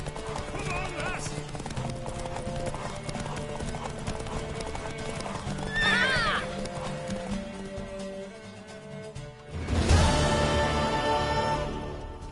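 Rhythmic hoofbeats of a galloping horse in The Witcher 3: Wild Hunt with a whinny partway through, under music and a voice calling out.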